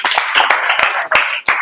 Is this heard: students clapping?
yes